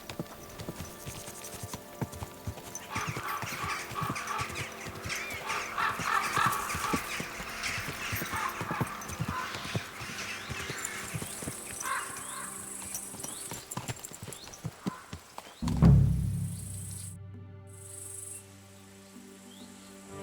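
A horse walking in Kingdom Come: Deliverance 2, steady clip-clopping hooves close by over a rural outdoor backdrop with crickets, ending in a low, heavy burst of sound.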